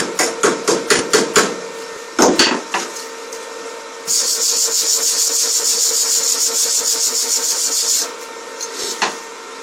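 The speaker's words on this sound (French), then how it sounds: "Sinon de la même façon je vais nettoyer ma soudure." Arc weld being cleaned, slag chipped off with a hammer: a run of sharp metallic taps, a heavier burst of strikes, then a steady scraping rasp for several seconds before a few final taps, close and loud.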